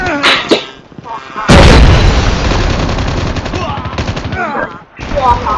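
Dense, loud gunfire and explosive bursts erupt in the Call of Duty Mobile video game, a sustained barrage following a short quieter stretch, with an excited voice heard around it.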